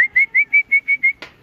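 A person whistles seven short, evenly spaced high notes to call racing pigeons home during pigeon training in Atimonan, Quezon, followed by a brief louder rustle or flutter.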